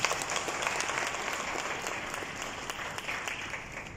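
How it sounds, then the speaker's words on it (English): A conference audience at the PIAAFRICA 2024 opening remarks gives a big round of applause. Thick, continuous clapping fills the whole stretch and eases slightly toward the end. "please join me in giving him a big round of applause"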